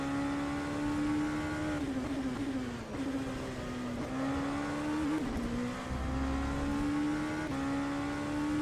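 A Porsche race car engine in rFactor 2, driven on the Sebring road course, hums loudly and continuously, its pitch rising and dipping through shifts and corners with no talk over it.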